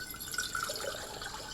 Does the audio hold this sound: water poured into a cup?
yes